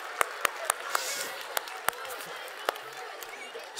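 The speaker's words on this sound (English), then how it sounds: "Everybody give Drew a very big clap." An audience at a children's book festival claps for a young helper, producing scattered sharp claps at an irregular, fairly quick pace over a faint murmur of crowd noise.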